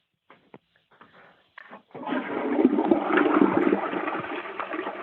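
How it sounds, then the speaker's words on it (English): A toilet flushes in one long, rushing surge of water heard over a narrow phone line, preceded by a few faint clicks and handling noises. "Do you mind just flushing it quick so I can hear?"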